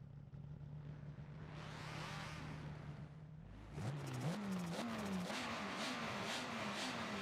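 Race cars in the Forza driving game start a race at VIR Grand West: a faint engine idle, then revs climb and fall through gear shifts as the field pulls away, steady and unbroken.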